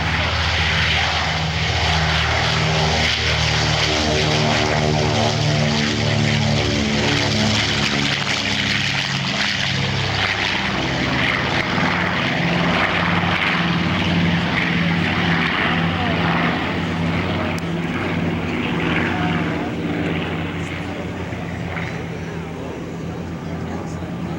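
A B-25 Mitchell bomber's propeller engines drone loudly and steadily in a sustained roar as it flies at an airshow, with an announcer's voice faintly present over the engine noise.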